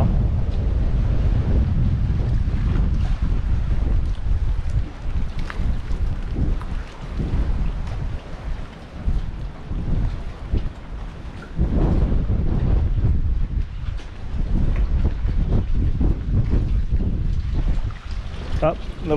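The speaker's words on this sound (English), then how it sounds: "Still a good bit windy here." Strong, gusty tropical storm wind in Islamorada roars and buffets the microphone continuously, with deep rumbling low-end noise that swells and dips throughout.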